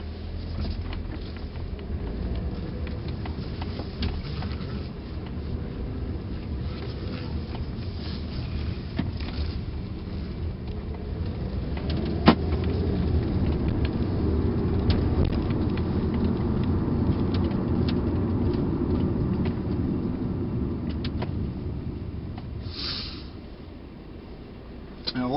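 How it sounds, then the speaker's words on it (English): A 2006 Volkswagen Passat drives along, its engine and road noise forming a steady low rumble heard from inside the cabin, with a single sharp knock midway and occasional faint voices. "Let's take the Passat for a drive."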